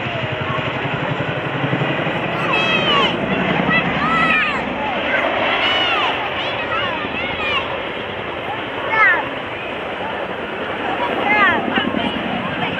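A Chinook helicopter flies display manoeuvres at an Armed Forces Day air show in Cleethorpes, its rotor roar loud and constant with swelling passes, while a commentator talks over it throughout.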